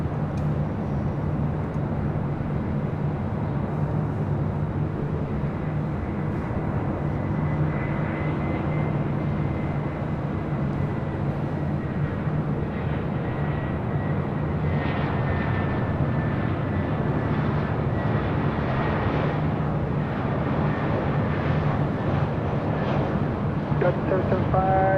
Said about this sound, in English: coming in from Las Vegas on an A319